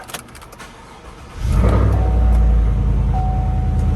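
Chevrolet Silverado 5.3L truck engine cranks and catches at about 1.5 seconds, then settles into a loud, steady idle close by, with a faint thin whine appearing near the end.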